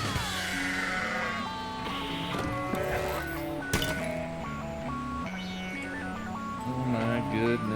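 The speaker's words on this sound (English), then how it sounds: "Those are goats." Game goats bleat in the driving video game Keep Driving, several wavering calls over music, loud and close throughout.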